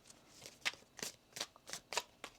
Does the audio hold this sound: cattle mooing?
no